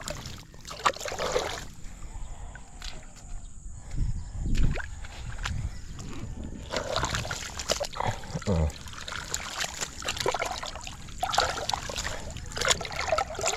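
Water draining off a flooded farm field, a steady trickle and gurgle with occasional splashes, heard up close along with wind and brief bumps.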